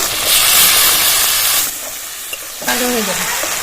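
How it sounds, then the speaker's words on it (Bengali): Chopped tomato and chilli hit hot oil with spices for a cauliflower roast, setting off a loud, steady hiss of frying. It dips briefly, then resumes with stirring. "টমেটো কুচি আর লঙ্কা কুচি দিয়ে দিচ্ছি"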